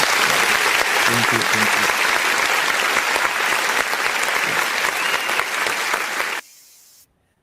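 A crowd in Edo, Nigeria applauds in a dense, steady wash of clapping that lasts several seconds, with a voice speaking briefly over it, before it cuts off abruptly into near silence.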